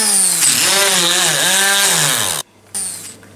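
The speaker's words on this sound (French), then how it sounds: "l'ingrédient fétiche, ça va être des biscuits Oreo que je vais mixer dans le mélange" A kitchen blender whirring as it mixes Oreo biscuits into a cake batter, a loud steady motor whine whose pitch dips and rises under load, then stops abruptly before a brief second burst.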